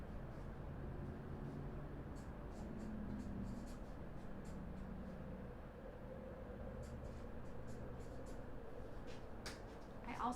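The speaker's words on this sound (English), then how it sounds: "So let's write our type down." A pen or marker writes onion variety names onto a seed tray label, giving faint, close scratching strokes in short bursts over a low background hum.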